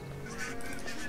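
A bird in the adventure game Broken Age gives a short, raspy goose-like honk, close and steady over a dense game background, with no speech.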